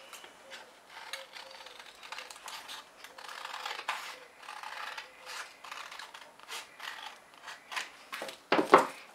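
Scissors cutting through fabric for a sewn belt bag, a quiet series of irregular snips and rustles, with a louder clatter near the end.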